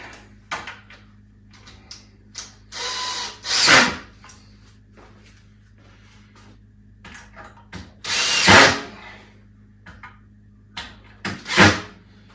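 A power drill drives screws into the wooden frame of a small DIY garden greenhouse in three whirring bursts a few seconds apart, each rising and stopping sharply, close and loud, with light handling knocks between them.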